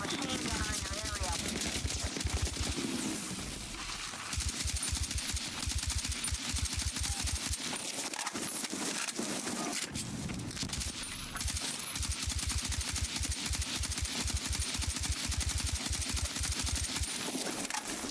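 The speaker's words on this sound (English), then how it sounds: "There's a hostile machine gun in your area." Hostile machine gun fire in the Battlefield 6 video game, rapid bursts of automatic shots repeating through most of the stretch amid dense battle noise, with a voice talking at times.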